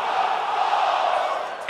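Loud, roaring arena crowd cheering in the WWE 2K20 wrestling video game before an elimination tag match, a steady wall of noise with no break.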